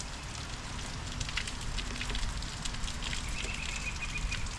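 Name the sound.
rain falling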